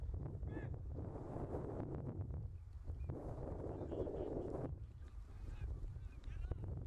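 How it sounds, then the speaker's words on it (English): Wind buffets the microphone at an outdoor MLS soccer match between Chicago Fire and Chivas, a continuous loud rumble and roar that swells and eases, with commentary voices under it. "You can feel the wind whipping behind us."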